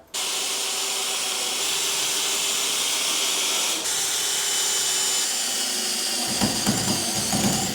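A power drill drives a screw at an angle into 6x2 timber for an alcove bed frame, a loud continuous whine that runs several seconds before the pitch drops and it sputters to a halt.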